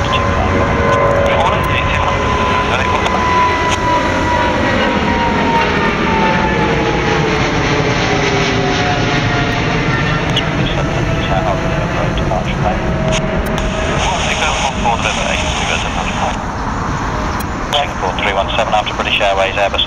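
Airliner engines roar on takeoff from Heathrow runway 09 right, a loud continuous rumbling wash with a slowly sweeping pitch through the whole stretch, with radio talk underneath.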